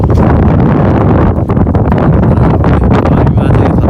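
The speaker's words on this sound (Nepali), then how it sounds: "हावा चलिरहेको छ यहाँ चाहिँ फेरि" Strong wind buffeting the microphone at a bridge, a loud, rumbling, gusty roar that stays constant from start to end.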